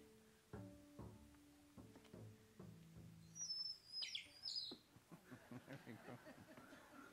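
A water-filled bird whistle toy warbles in a short burst of high, trilling chirps, played alongside plucked bluegrass instruments and moderately close in the mix.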